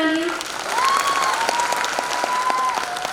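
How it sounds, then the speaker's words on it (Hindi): An audience at a Corps Day celebration applauds for the singer Krishna, steady clapping throughout under a sustained tone and a voice speaking over it. "एक बार कृष्णा के लिए जोरदार तालियां।"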